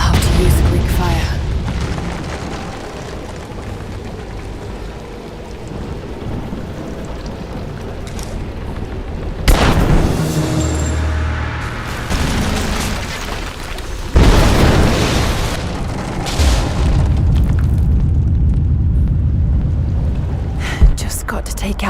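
Greek fire vessels explode in Tomb Raider, with two heavy booming blasts rumbling over a dense bed of crumbling debris and rain-like noise, while a player talks throughout.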